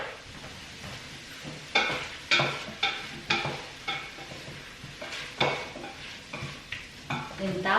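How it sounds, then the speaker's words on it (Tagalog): Butter sizzles in a pan with chicken and ham while a utensil stirs and scrapes, giving repeated close clinks and scrapes over a steady frying hiss. "Mag-a-add tayo ng butter sa ating chicken and ham."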